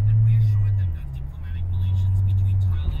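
A Volvo car driving at nearly 60 km/h in traffic gives off a steady low engine and road drone throughout, with faint background noise above it.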